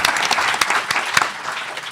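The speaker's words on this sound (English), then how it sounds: "can I ask for a big round of applause?" An audience claps after a panel session, dense continuous applause with sharp individual claps standing out, held at an even level throughout.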